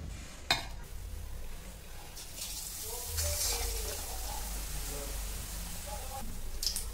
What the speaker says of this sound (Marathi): अशा प्रकारे आपल्याला हे वडे तळून घ्यायचे आहे.